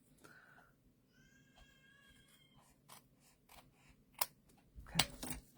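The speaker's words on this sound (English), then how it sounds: "I'm just going to take my snips and trim that off." Snips trim excess paper in a stamping craft session, giving a few soft close snipping cuts near the end after quiet handling noises, with faint tonal sounds earlier.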